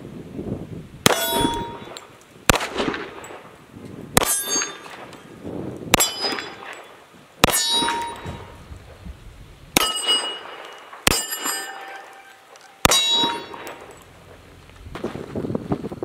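A Stoeger Cougar pistol fires Corbon .40 S&W rounds outdoors, eight sharp, loud cracks spaced a second or two apart, each followed by a ringing clang of a steel target and brief echo, with wind noise between shots.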